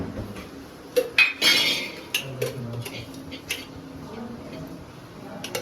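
Metal kadai clinks and clatters as a second pan is set down on the stove for making desi ghee vermicelli, a few sharp clanks followed by softer scraping and faint kitchen clatter, close by and without talk.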